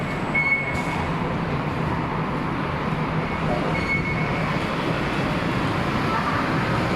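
Steady rumble of a Bangkok BTS Skytrain running on elevated rails, with a faint high squeal from the wheels and a constant roar throughout.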